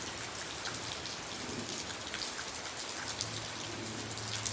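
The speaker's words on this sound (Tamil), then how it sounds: "பாருங்கள், பூரா மழை தான்." Heavy rain pours steadily outdoors in Villupuram during a red-alert downpour, a dense continuous hiss of drops on surfaces with a low hum underneath and no voices.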